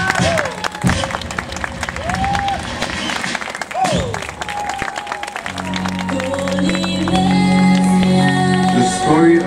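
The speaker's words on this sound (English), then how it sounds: "big round of applause to our brave Samoan Fire Knife Warriors." An audience at a Samoan fire knife show at Huis Ten Bosch claps and cheers with scattered shouts while music plays alongside, the applause building steadily throughout.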